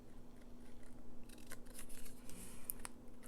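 Scissors trim paper cutouts for a coffee-dyed journal in a few quick, quiet snips close by, over a soft background hum.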